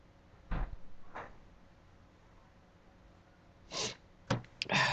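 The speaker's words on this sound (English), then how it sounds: "I hope that's two sneezes" Two sharp sneezes burst out near the end, close and loud, following a couple of brief breathy snorts earlier in an otherwise quiet room.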